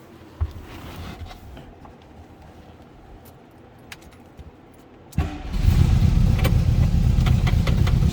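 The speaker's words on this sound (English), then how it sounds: "Let's go ahead and fire this up so you can hear it run." A 1972 Volkswagen Beetle engine cranks and catches about five seconds in after quiet clicks and key jingles, then settles into a loud, steady air-cooled idle close by.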